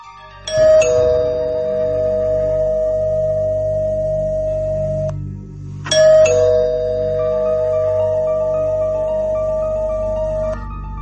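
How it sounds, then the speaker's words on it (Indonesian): A house doorbell in a horror audio story gives two clear ding-dong chimes a few seconds apart, each ringing out and lingering, loud and alone. "Bel rumah berbunyi."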